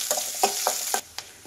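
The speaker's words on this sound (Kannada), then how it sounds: "ಇದನ್ನು ಒಂದು ಸ್ವಲ್ಪ ಫ್ರೈ ಮಾಡಿ." Finely sliced onions sizzle in a hot pan while being stirred for a mixed vegetable sambar, a steady close frying hiss broken by four or five scraping stirring strokes, no talking.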